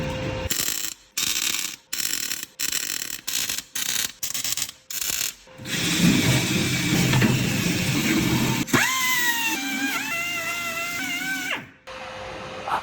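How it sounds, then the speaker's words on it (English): Gearbox mount brackets are tack welded for a W58 gearbox in a 2JZ-engined Datsun 240z: a run of short, regular bursts separated by gaps, then a longer continuous crackling stretch, loud and close. "So get the other one done, and I can weld them in properly."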